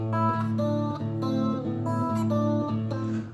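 Plucked guitar notes picked one after another in a steady, looping pattern, close and clear with no talking.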